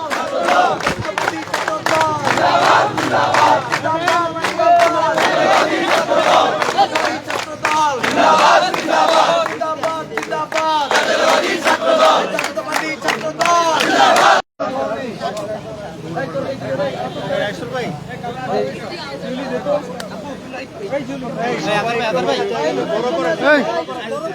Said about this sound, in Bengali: ছাত্রদলের যারা নেতারা রয়েছেন তারা স্লোগান দিচ্ছেন এখানে